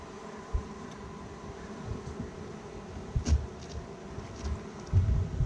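Bees buzz in a low, steady drone during a hive removal, with occasional louder bumps and handling thuds close by, no voices.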